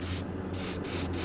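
Short hissing bursts of spray paint coat a handmade garfish swimbait lure, three close, steady sprays separated by brief pauses, with no voice.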